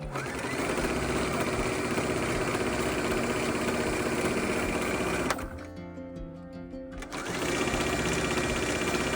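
A sewing machine stitches a serpentine zigzag across a scrap quilt with a close, fast, even whirring hum that stops for about two seconds and then resumes at the same pace.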